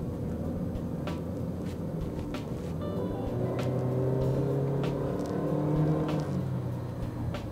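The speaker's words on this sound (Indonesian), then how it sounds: "saya coba untuk gas sedikit" A Wuling Alvez accelerating, heard from inside the cabin as a low engine hum that rises and strains gradually, with faint clicks and interior noises scattered over it and no talking.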